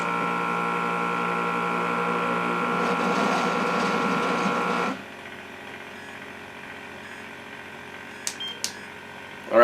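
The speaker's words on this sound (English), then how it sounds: "Let's go ahead and make sure we got a good vacuum on there." A Kuvings SV500 vacuum blender pumps the air out of its jar before blending, a steady mechanical whirring hum for about five seconds that then drops to a quieter drone, with a few brief clicks near the end.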